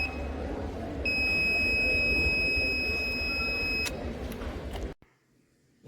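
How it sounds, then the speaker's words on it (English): An electronic buzzer on a smart helmet project sounds a steady high tone for about three seconds, actuated when a sensor reading passes its threshold, over a loud background hum before cutting off abruptly. "as the value go up, the buzzer gets actuated"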